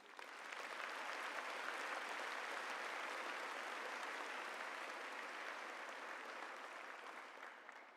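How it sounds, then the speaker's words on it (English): A steady, even wave of applause from a high school graduation audience for the band and orchestra, sustained and uniform, fairly distant and soft, tapering slightly at the end. "Let's give them another round of applause."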